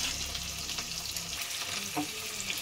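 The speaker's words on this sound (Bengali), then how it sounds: "সেটা আমি মোটামুটি একটু ভেজে নিচ্ছি।" Red lentil fritters fry in a pan with a constant close sizzle and crackle of hot oil, broken by light stirring scrapes, and nobody talks.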